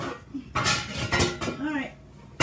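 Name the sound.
rummaging for a metal loaf pan among pots and pans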